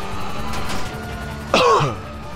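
A character coughs in a video game: a single near, harsh cough with a throaty, voiced tail, alone over a steady low background.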